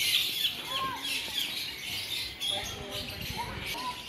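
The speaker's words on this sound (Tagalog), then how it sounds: "mga ibon, iba't ibang ibon ang nandito" Assorted birds at a small mini zoo in La Union, Philippines, give scattered chirps and squawks at a moderate distance, faint against a hissy background, while a person speaks occasionally.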